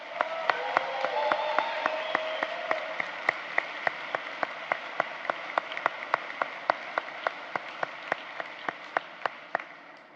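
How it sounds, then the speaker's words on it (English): A graduation ceremony audience applauds for about ten seconds, a dense wash of clapping in a large hall punctuated by sharp, regular claps, gradually thinning toward the end. "Let's give them all a round of applause."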